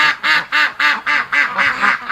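Ducks in winter at a breeding flock quack in a steady series of about eight loud, evenly spaced calls, close by and with no talking.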